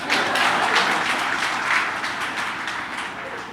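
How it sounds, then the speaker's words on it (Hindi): Audience applause fills the space for several seconds, a dense steady wash of many hands clapping at an event honouring teachers, with no talk heard over it. "एक बार ताली और बजवा लेता हूँ"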